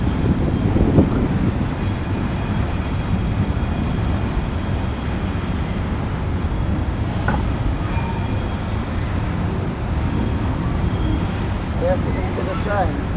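A long coal train crosses a trestle at Prince, West Virginia. A continuous, dense rumble and rattle of rail cars holds steady throughout, with faint squeals rising near the end.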